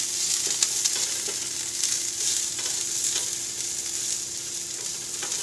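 Pizza sub filling sautés in a pan inside an RV kitchen, giving off a steady close sizzle with occasional soft stirring taps, with no talking.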